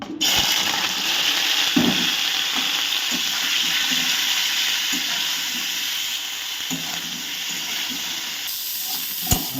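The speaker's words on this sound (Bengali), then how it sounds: "এবার আমি ফুলকপিগুলোকেও ভেজে নেব" Cauliflower florets fry in hot oil for a Bengali mixed-vegetable labra, a loud, constant hissing sizzle close by, with a few soft knocks and stirring clunks breaking through now and then.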